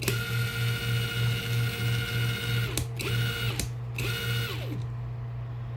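A Hercules impact driver running in mode 1, a steady mechanical whir with a rhythmic pulsing hum, briefly stopping and restarting twice before spinning down near the end.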